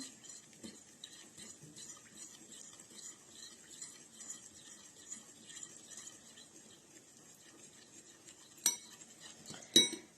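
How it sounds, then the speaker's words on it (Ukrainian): A spoon stirs oil and honey in a bowl with soft continuous scraping and light clinks, fairly quiet, ending with a couple of sharper taps. "Зараз ми розмішаємо"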